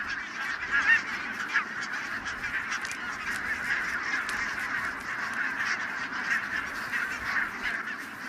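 A large flock of wild geese that migrated from Greenland to winter on farmland on a Scottish island keeps up a continuous chorus of overlapping honks at middle distance, with no talking.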